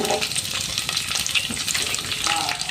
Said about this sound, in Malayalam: തേങ്ങാക്കൊത്ത് നല്ലപോലെ മൂത്തിട്ടുണ്ട് ഇതിലോട്ട് നമുക്ക് ഒരു പത്ത് മുപ്പത് കൊച്ചുള്ളി നീളത്തി അരിഞ്ഞത് കനം കുറച്ച് അരിഞ്ഞതാണ്